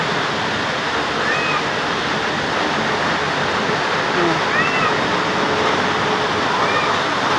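Floodwater rushes fast into a house, making a loud, continuous, unbroken roar of moving water close by that holds steady throughout.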